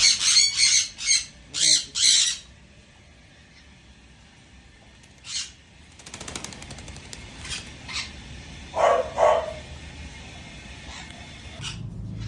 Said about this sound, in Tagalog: Nandito po yung mga sangkonyor, lovebirds at iba pong kalapate.